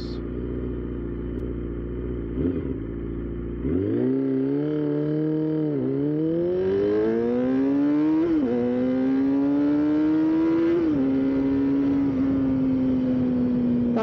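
Honda CBR 250RR motorcycle engine revving hard in a drag race, climbing through several rising gear pulls with brief dips at each shift, loud and close with a high-pitched wail and no talk.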